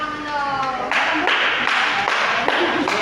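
Classroom applause for a student winner, a burst of clapping from a group starting about a second in and continuing steadily to the end, following a stretch of music or tones.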